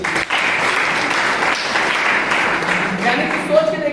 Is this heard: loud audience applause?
yes